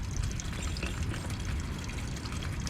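Water trickles and dribbles steadily from a leaking outdoor spigot vacuum breaker that has just been hand-tightened, a close, continuous wet splashing with no voices.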